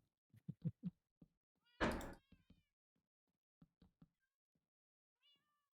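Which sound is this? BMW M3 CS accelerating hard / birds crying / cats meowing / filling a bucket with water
cats meowing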